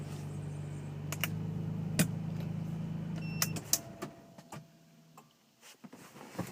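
A Nissan 300ZX is shut off with its push-button stop: a steady low engine idle runs, then cuts out after a few clicks, leaving faint ticks and quiet. No one speaks.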